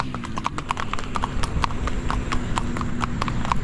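Horse hooves clip-clop at a relaxed, regular pace on a ride through the coffee mountains near Medellin, Colombia, each step crisp and close, steady throughout with no talking.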